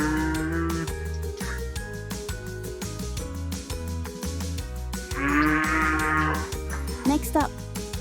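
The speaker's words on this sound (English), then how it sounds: "First up is the cow." A cow moos in a long, drawn-out low call set against a steady background of music, with a brighter swell partway through.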